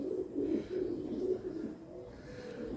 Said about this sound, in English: You all hear the pigeons?